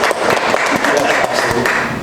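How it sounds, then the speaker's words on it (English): Audience applause fills a room at ConnectiCon as the convention's vice president, Ryan, is called up. The clapping is dense and steady with a few thumps, and faint voices sit underneath. "Round of applause here for Ryan."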